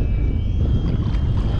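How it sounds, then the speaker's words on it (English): A boat passes close by on windy coastal water during a fishing trip, a continuous rumbling engine wash mixed with wind noise on the microphone, steady and fairly loud throughout. "Boat almost cut me off."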